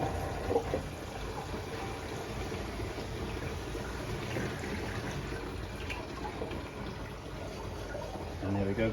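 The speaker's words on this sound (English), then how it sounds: "let's go ahead and let the water out of the hand sink" Water drains from a hand sink in a food truck, a faint continuous trickle and gurgle running steadily for several seconds in a quiet interior.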